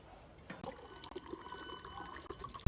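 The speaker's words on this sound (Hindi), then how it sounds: "चलो पानी भर लेते हैं।" Water running from a filter into a bottle at a roadside gurudwara room, a soft uneven trickle and splash that builds gradually, ending with a sudden loud bump.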